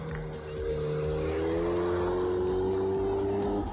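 Renault Mégane 4 RS test mule disguised as a Mégane GT drives past with a sustained engine drone that rises in pitch as it accelerates, heard from outside at moderate distance over road noise.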